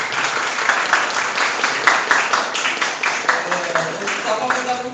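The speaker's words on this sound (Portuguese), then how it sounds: "Palmas para vocês" Applause from an evening church camp audience, rhythmic clapping in rolling bursts with voices faintly mixed underneath.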